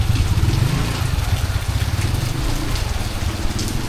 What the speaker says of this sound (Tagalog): Kaso sobrang lakas ng ulan.